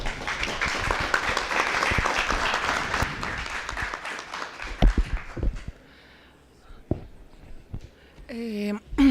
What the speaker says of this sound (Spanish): si le podemos dar un aplauso